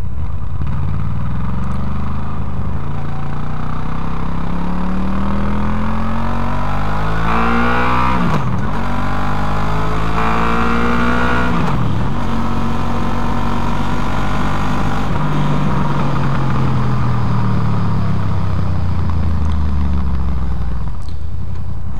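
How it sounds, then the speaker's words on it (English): A Honda VFR800 with its standard exhaust and VTEC roars through repeated revs and gear changes, pitch climbing and dropping over several pulls, loud and close to the pipe with wind buffeting, no talking. "standard VFR 800 exhaust noise"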